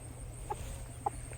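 A chicken gives two short clucks a moment apart, faint against a steady low background hum.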